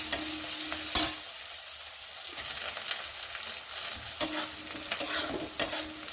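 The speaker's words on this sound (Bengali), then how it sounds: "দুটো কাঁচা লঙ্কা। এটাকে একটু আমি হালকা ভেজে নেব।" Two green chillies lightly fry in oil with onion, a soft steady sizzle broken by sharp scraping stirs of a spatula against the pan, close and clear with no talking.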